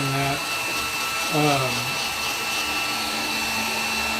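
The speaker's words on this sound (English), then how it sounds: "it's like a kind of like a really hot blow dryer on super high or high." A really hot blow dryer runs on high, drying the top layer of a homemade truck-simulator dash build; its steady airy roar fills the space throughout, with brief nearby speech over it.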